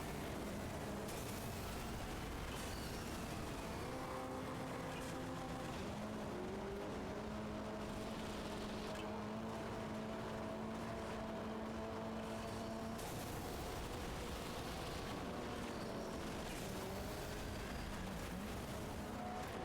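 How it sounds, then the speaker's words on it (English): An off-road mud plugger truck races in the video game Motorstorm, engine tones rising and falling through gear changes amid continuous loud driving and crashing noise, with no talk. "I do think this mud plugger controls very oddly."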